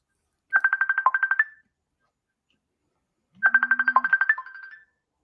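A mobile phone ringtone plays two bursts of rapid, bright chiming notes about three seconds apart, each roughly a second long, loud and clear with no talking over it.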